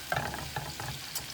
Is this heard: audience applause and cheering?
no